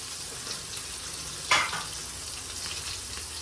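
Cumin seeds sizzle in hot oil for sambar rice, a steady close frying crackle with one brief sharper spit midway, no talk.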